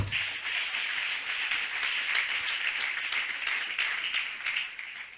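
A church congregation bursts into sustained clapping in praise of God, a dense wash of many hands that stays loud and even for several seconds before trailing off at the end.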